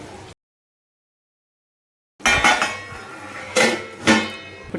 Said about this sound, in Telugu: ఇప్పుడు కర్రీని అయితే సర్వింగ్ బౌల్లోకి తీసుకుందాము.